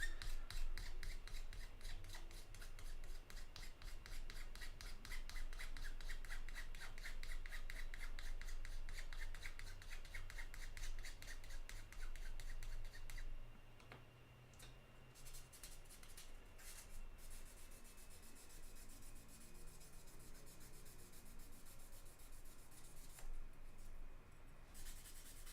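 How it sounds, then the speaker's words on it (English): A small part from an HG Neo Zeong Gunpla kit being sanded, a steady close rasping scrub that runs continuously, easing a little partway through, with no talk. "Now we will sand the little bit that's left."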